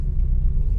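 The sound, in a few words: Triumph Stag engine running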